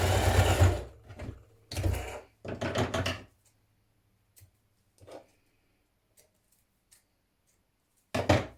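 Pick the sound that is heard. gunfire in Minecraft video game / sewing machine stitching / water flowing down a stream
sewing machine stitching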